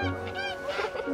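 A goose honks a few times in quick succession, close and fairly loud, with nasal, harmonic calls in a storybook countryside scene.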